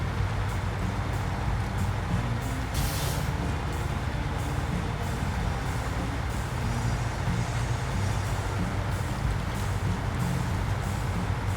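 A heavy truck with air brakes in a hard-mode driving video game gives a steady, loud engine rumble throughout, with a brief hiss of air near the start.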